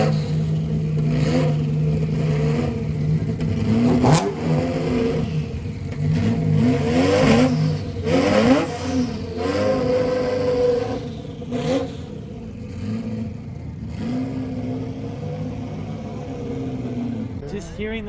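A Ferrari F40 engine cold-starts at a Cars and Coffee gathering, its loud mechanical roar swelling through repeated revs and settling into a rough, uneven idle, with people talking over it nearby.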